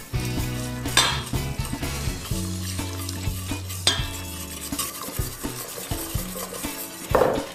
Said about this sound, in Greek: Ανακατεύουμε το γάλα με το κακάο πολύ καλά